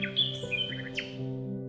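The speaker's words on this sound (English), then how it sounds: "Listen out for turtle doves and nightingales in the hedgerows." Songbirds in woodland hedgerows, where turtle doves and nightingales live: a few sharp chirps and whistled notes, clear and fairly close, over a steady low hum.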